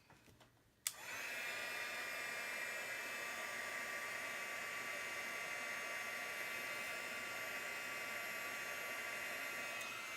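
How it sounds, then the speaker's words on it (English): A heat gun melting embossing powder starts with a click and then blows a steady, even, close-up rush of air that holds for about nine seconds without a break. "Grab my heat gun."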